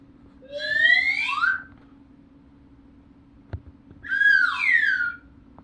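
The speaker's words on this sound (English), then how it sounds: "These are some variations of me using one of my toy slide whistles." A toy slide whistle swoops upward in a sliding tone, goes quiet after a small click, then plays a second rising-and-falling glide.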